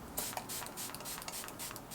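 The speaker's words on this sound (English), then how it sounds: "I'm just gonna spray my face with the Fix Plus" Fix Plus setting spray mists onto a face in a few soft, close hissing bursts, heard alone and fairly quiet.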